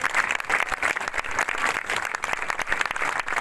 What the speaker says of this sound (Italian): Quindi fate un applauso alla squadra leghista comasca.